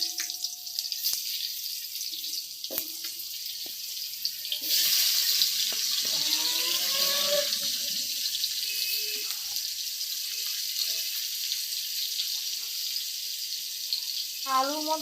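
Potatoes drop into hot oil in a wok for a spicy stingray and potato curry, setting off a sudden loud, hissing sizzle that keeps crackling steadily after a few quieter kitchen clinks.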